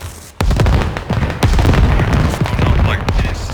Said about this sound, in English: Rocket already just wiped us all